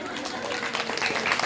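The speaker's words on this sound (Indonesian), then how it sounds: "Tepuk tangan." Brief scattered clapping from a village audience at a humorous Sundanese Islamic sermon, mixed with crowd murmur and some voices, fairly soft and short.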